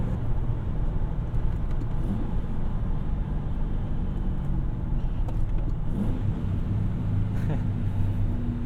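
A manual Ford Crown Victoria's engine drones steadily as a low, continuous rumble, with slight swells as it revs in gear; faint voices come through now and then over the cabin noise.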